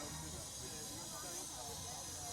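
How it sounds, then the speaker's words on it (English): Steam hisses steadily from a Wallis & Steevens steamroller at Stoke Prior, Worcestershire, a constant broadband rush close by with no break, over faint low engine rumble. "I'm getting wafted with steam and that's coal smoke."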